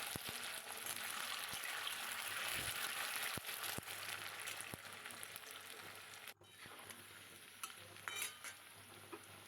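Taro and potatoes fry in a pan with onion, giving a steady, soft sizzle with occasional stirring clicks and scrapes, close and quiet with no voices.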